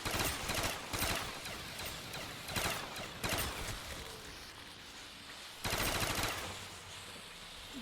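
Automatic gunfire in Call of Duty Black Ops 3 custom zombies plays as loud, rapid bursts repeating every second or so, with short pauses between volleys and no voices.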